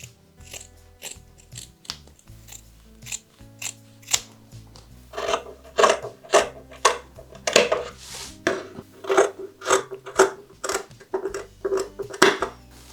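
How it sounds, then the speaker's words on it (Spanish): Scissors cut fabric lining for a large-capacity patchwork sewing bag. Repeated crisp snips and blade scrapes come close up and grow steadier and louder, with no talking. "Vamos a cortar esto y luego el forro."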